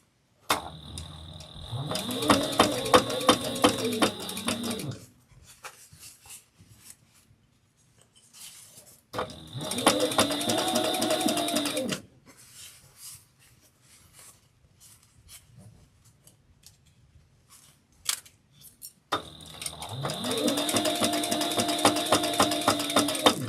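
A sewing machine runs stay stitching fabric an eighth of an inch from the edge, in three bursts of rapid mechanical stitching with quiet gaps and small clicks between.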